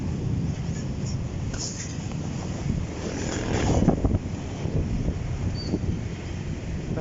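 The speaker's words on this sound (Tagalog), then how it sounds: "Hapas ng hangin." Wind roars steadily across an outdoor microphone near open water, swelling into a stronger gust midway before settling back to a constant rush.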